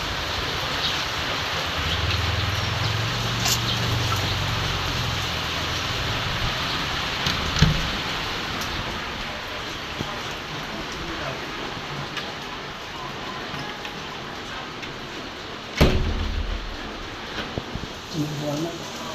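Steady rain falls outdoors on a cool, bright day, a dense continuous hiss with a few louder thumps and knocks, while low voices talk faintly underneath.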